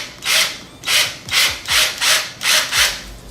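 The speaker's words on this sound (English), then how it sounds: "take the countersink bit into the holes that you just drilled at the end of the GoPro adhesive mount and gently begin to bore them out" A hand drill fitted with a countersink bit bores out holes in a GoPro adhesive mount, giving seven evenly spaced rasping grinds in a steady rhythm, close and fairly loud, with no talking.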